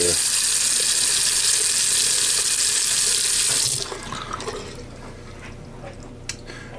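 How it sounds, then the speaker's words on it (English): A bathroom sink, just unclogged, drains with a strong steady rush of water that cuts off after a few seconds, leaving a quieter gurgle and small trickles. "Stopper's working, and draining like it's supposed to."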